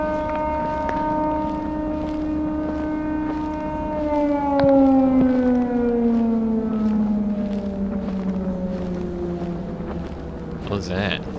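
Siren Head creature wailing in an indie horror video game set near a marsh, a long sustained siren tone that slowly falls in pitch, loud and droning, with a brief clatter near the end.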